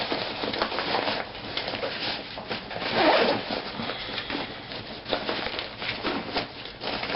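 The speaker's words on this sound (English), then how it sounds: "The front of it, you can gain access through right here. There's a zipper." Zipper on the front access pocket of a Kelty Falcon 4000 backpack, drawn in a run of close, raspy pulls that last several seconds with no talking over them.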